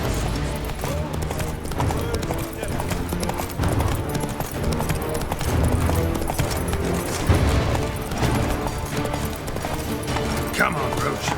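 Roach, a horse in The Witcher 3: Wild Hunt Blood and Wine, gallops with a continuous, rhythmic clip-clop of hooves. Game sounds and a speaking voice run over the hoofbeats.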